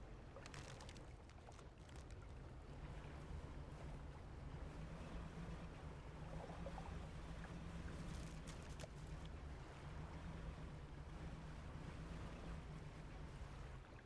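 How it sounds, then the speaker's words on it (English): A fishing boat's engine hums low and steady as it moves across dark water in the fishing game DREDGE, with soft waves and wind, quiet and constant with no voices. "Please try to keep your engine noise to a minimum."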